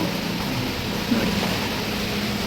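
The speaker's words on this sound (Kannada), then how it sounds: "ಮಳೆ ಸಿಕ್ಕಾಪಟ್ಟೆ ಆಚೆ" Steady, dense hiss of heavy rain continues evenly throughout, with no pauses or voices.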